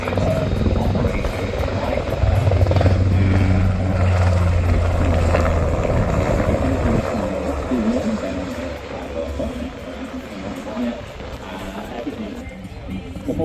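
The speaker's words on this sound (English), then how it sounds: "The helicopter is just approaching from the back of the runway towards our position" A helicopter's low rotor drone rumbles steadily at an airshow, drawing closer from the back of the runway, with voices talking over it throughout.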